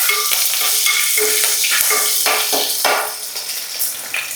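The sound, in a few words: fish curry with green chillies being stirred in a pan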